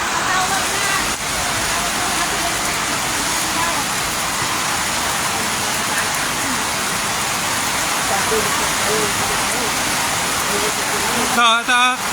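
Steady, dense rain pours down in a continuous broadband wash during a storm in San Luis, Antipolo City, Philippines, with a short burst of clatter near the end.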